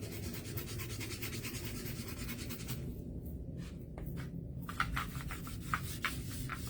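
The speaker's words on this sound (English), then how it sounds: "if I give that a little scrub with the board eraser" Rhythmic rubbing as a board eraser scrubs over fabric on a snowman shirt, with fabric-marker transfer work; steady, close strokes continue throughout, quiet and unaccompanied by speech.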